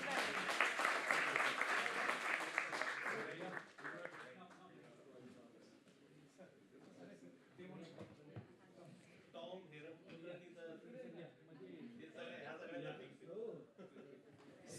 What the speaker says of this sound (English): Let's clap everybody.